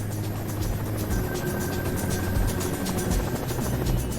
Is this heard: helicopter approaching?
yes